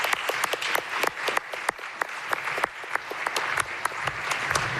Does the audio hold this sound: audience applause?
yes